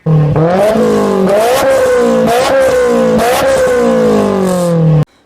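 A loud, close V8 engine of a 2012 Audi RS5 revs repeatedly, its deep rumble climbing and dropping in several throaty bursts before cutting off.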